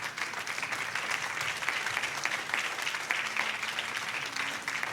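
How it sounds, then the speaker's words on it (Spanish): A church congregation applauds in a steady, dense wash of clapping lasting several seconds, fairly close and without pause. "Denle un fuerte aplauso al Señor"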